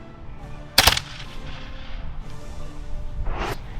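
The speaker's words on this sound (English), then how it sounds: "We're going to fire a volley." Volley of black powder muskets fired at a historical reenactment event, one sharp loud booming crack near the start followed by echoing rumble, then a second, more distant report outdoors.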